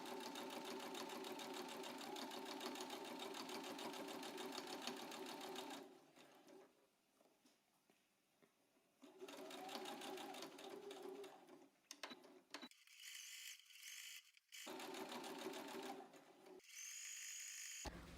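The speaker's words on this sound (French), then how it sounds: "On va venir coudre à 7 mm du bord sur le long de la poche." A sewing machine stitches a dress pocket seam 7 mm from the edge in quick mechanical bursts, running several seconds, pausing, then resuming in shorter runs with brief gaps, close and moderately quiet, no speech.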